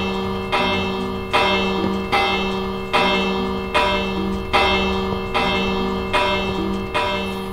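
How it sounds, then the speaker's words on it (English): A redstone-powered automatic bell ringer in Minecraft keeps the game's bells clanging in a steady, rapid series of about eight loud metallic strikes, each ringing on into the next, heard alone. "And that's the auto bell ringer."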